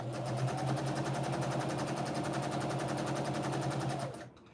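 A sewing machine chain-pieces pre-cut quilt strips in a fast, steady run of rapid stitching, close and clear, then stops abruptly near the end.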